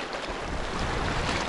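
Sea waves at Cape Tarkhankut in Crimea wash against the rocky shore in a dense, continuous roar, mixed with wind buffeting the microphone, with no talk.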